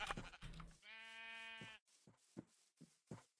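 A single drawn-out Minecraft sheep bleat, close and clear, followed by scattered short thuds and footstep-like knocks.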